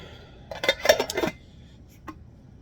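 A metal lid clatters onto a camping cook pot, a quick cluster of close, bright clinks and rattles followed by a brief single clink after a pause, with no talk.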